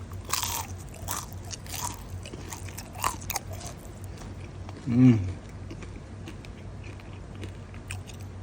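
A single loud crunchy bite into homemade fried chicken, heard once close up after several seconds of quieter chewing and background noise.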